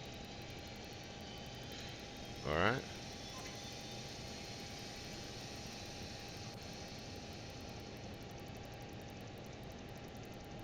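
Twin jet engines of a Learjet in Microsoft Flight Simulator 2020 hum in a steady, even drone with a faint constant tone, broken once by a short rising chirp; a voice speaks a single brief word.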